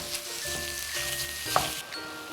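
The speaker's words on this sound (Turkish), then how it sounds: "Kıyma da pişene kadar yaklaşık bir 5 dakika daha şöyle spatula ile kaşıkla bastırarak pişiriyorum" Minced meat fries in a pan while a spatula presses it down, giving a steady close sizzle with a faint tonal hum and one sharp scrape or tap near the middle.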